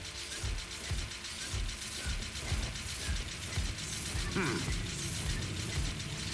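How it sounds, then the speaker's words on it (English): Rapid machine-gun-like glitch rattle in the video game Hogwarts Legacy, a dense mechanical clatter of repeated rhythmic bursts that keeps going throughout at steady loudness, with a brief tonal game sound partway through. "Why do I hear a machine gun?"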